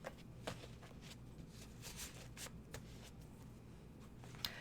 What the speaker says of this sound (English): Okay, I guess I've shuffled them enough.